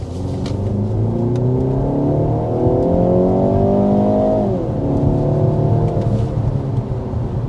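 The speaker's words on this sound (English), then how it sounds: "first we need to start with a hard acceleration so you can see what this X1 is all about" A 2026 BMW X1 with a 2-liter turbo engine pulls hard under full acceleration. The engine note climbs through the revs, dips at an upshift, then rises again under steady road roar heard from inside the cabin.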